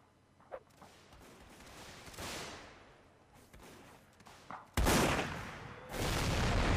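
Cannon fire on a Mount & Blade North & South mod line battle field, with muffled booms and crackling shots building to a loud, sustained roar of gunfire near the end.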